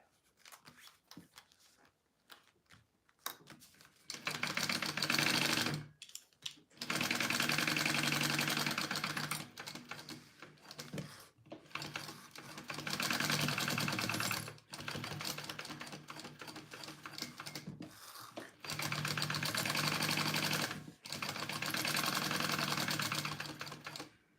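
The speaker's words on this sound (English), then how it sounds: "I am going to go ahead and just baste these 2 pieces together." A sewing machine bastes two fabric pieces together for a pouch, running in several loud bursts of rapid stitching a few seconds each, separated by short pauses and faint handling sounds.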